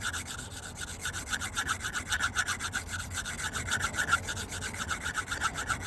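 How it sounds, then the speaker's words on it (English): A CPM-10V steel knife drawn freehand across a sharpening stone in quick, even rasping strokes, a close, quiet rhythmic scraping with no talk. "try to do a freehand sharpening of this"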